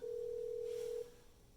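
Yealink T54W desk phone: a steady electronic tone holds for about a second, then cuts off, leaving quiet room noise.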